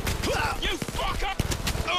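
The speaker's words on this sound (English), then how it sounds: "someone shot him again" Gunshots in the video game Blood and Truth: one or two abrupt cracks cut through a man's frantic, overlapping talk in a short burst.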